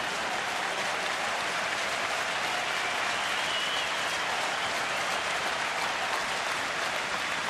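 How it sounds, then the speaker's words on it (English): Phillies fans applauding at a baseball stadium during a game against Oakland, a dense, continuous wash of crowd clapping at even loudness throughout. "the Phillies fans applauding the effort of Vance Worley."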